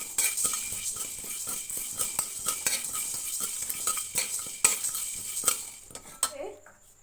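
Whole spices (black peppercorns, cloves, four cardamom pods, three pieces of cinnamon) dry roasting in a pan for a chaltа pickle: a steady run of scraping stirs and metallic spoon clinks against the pan, close and continuous, with no talking.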